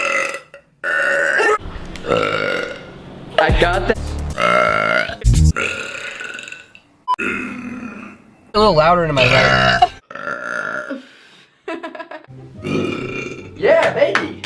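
Repeated loud burps from a woman, some long and drawn out, others short, coming in bursts across the stretch with people talking and laughing in between.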